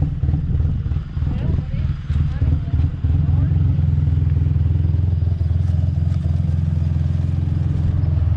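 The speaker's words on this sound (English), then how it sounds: "That's a cammed idle." A car with an aggressive camshaft idles roughly, its loping low rumble loud and close, running steadily throughout without revving up.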